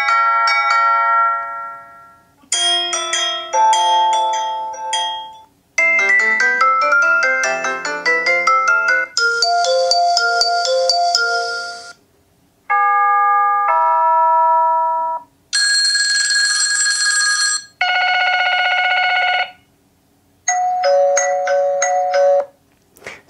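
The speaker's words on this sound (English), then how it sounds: "each of these has its own distinct notification sound" A series of distinct electronic notification chimes from a Eufy 2K battery doorbell app on a phone, each a short melodic tone pattern, played one after another with brief gaps, clear and close.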